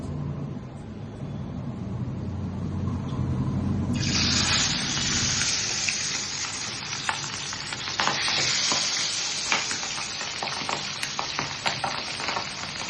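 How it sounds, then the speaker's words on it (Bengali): Pabda fish dropped into hot oil, a steady low frying bed that suddenly bursts into loud, crackling sizzle partway through and keeps spitting and popping close by, with no talk. "তেল দিয়ে দিয়েছি এবং তেল গরম হয়ে গেছে। এবার একটা একটা করে পাবদা মাছ ছেড়ে দেবো।"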